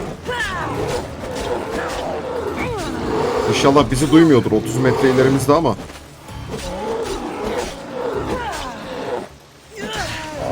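A bear roars and growls in the ancient Greek wilds of Assassin's Creed Odyssey. Its guttural roars are loud and close and rise and fall in waves, while someone speaks quietly over them.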